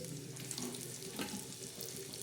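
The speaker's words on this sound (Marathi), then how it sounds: "थोडं तेल टाकलं ना कांदा लवकर भाजतो आता कांदा टाकलेला आहे" Onion fries in a little oil in a pan for a spicy curry, a quiet continuous sizzle with faint crackles and a soft stir, fairly distant and low in level, no talking.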